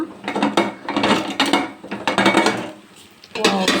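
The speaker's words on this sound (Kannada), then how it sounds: "ಕುಕ್ಕರ್ ಮುಚ್ಚಳ ತೆಗೆಯೋಣ" Metallic clanks and rattles of a pressure cooker lid being opened, several sharp knocks and scrapes close by, with no talking.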